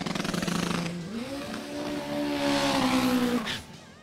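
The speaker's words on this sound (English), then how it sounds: "That VW MK1 is powered by an old school Opel 16-valve Superboss motor." A VW MK1 race car with an old-school Opel 16-valve Superboss engine at a no-prep drag event revs hard, its pitch rising and holding as it pulls away, loud and close, then fading near the end.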